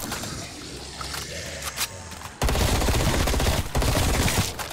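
Rapid gunfire from a weapon in Call of Duty zombies on the Die Machine map, dense and loud, with a sharp jump in intensity midway as sustained bursts take over, continuing near and steady to the end.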